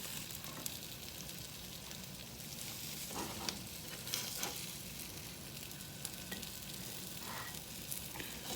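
A chicken fajita sourdough melt sizzles and fries on a griddle, a steady faint crackling hiss with occasional small pops and scraping stirs.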